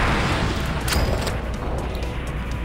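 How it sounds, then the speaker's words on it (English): A rocket is fired and explodes in the video game Cortex Command, heard as a dense, booming rumble with brief crackling bursts near the start, loud and continuous throughout. "And now we fire this rocket at them"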